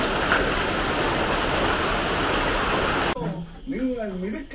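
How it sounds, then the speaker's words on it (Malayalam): Steady rain pouring outdoors in Kerala, a dense continuous hiss for about three seconds, then cutting off as a voice speaks over a quieter background. "മഴ കഴിഞ്ഞു കഴിഞ്ഞെന്ന് പറയാൻ പറ്റത്തില്ല,"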